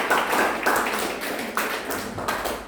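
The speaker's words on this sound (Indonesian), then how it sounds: "Tepuk tangan." A lecture class claps for itself during a guest lecture, a brisk, steady patter of many hands filling the room, fairly close and moderately loud, with no talking.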